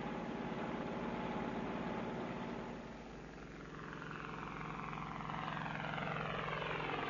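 A helicopter takes off over lower terrain into the wind, its loud, continuous rotor and engine roar dipping briefly then swelling again, close and alone.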